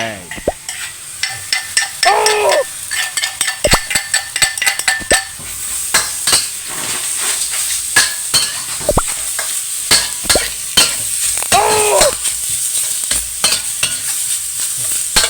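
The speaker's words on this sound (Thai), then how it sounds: "ผมจะผัดแบบไม่ใช้น้ำมัน โอเค ตามด้วยพริกลงไปผัดพร้อมกันเลยนะครับ" Pork leg and chilies stir-fry in a dry pan without oil, sizzling steadily with frequent loud scrapes and clinks of a metal spatula against the wok, and a voice talking now and then.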